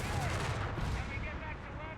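Infantry gun fire in a Company of Heroes 3 match, a dense burst of booming battle noise with crackling gunfire that rumbles on steadily throughout, heavy and close in the mix.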